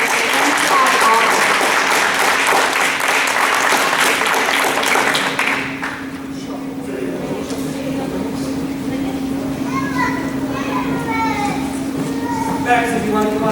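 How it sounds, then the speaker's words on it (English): Loud applause with cheering fills a school board meeting after a sixth grade band performance, clapping dense for several seconds then thinning into murmuring crowd noise, with children's voices rising near the end. "Let's give them a great big round of applause."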